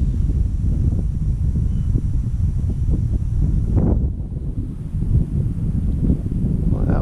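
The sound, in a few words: strong wind blowing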